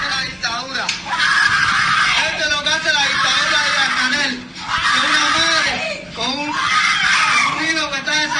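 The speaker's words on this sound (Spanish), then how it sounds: "voy a poner el sonido para que escuchemos los gritos de terror de esta mujer" A woman screams in terror inside a police station: loud, sustained high-pitched wails in repeated bursts that dip briefly between cries, with other voices blended in.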